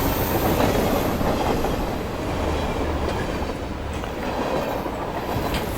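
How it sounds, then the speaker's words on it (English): Steam freight train rolling along the rails, a steady dense rumble with rhythmic clickety-clack of wagon wheels, close and continuous throughout with no voices. "And she puffed out of the yard with her freight train."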